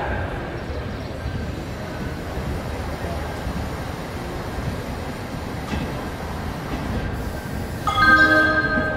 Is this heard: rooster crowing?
no